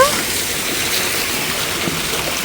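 Water cascades at a water park pour and splash in a dense, steady roar that stays constant and close throughout, with no clear speech.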